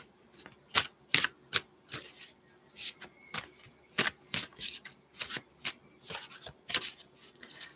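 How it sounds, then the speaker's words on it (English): Oracle cards are shuffled in repeated quick riffles, crisp flapping bursts coming in an irregular rhythm, close up and otherwise quiet. "Oh, I need to shuffle them a bit here."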